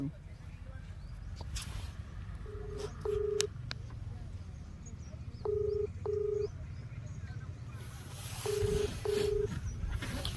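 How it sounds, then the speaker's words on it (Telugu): A phone call being placed during a prank: pairs of short dialing beeps repeat three times at spaced intervals over faint background noise. "ఫోన్ చేయరు ఒకసారి వానికి. చేస్తున్నా"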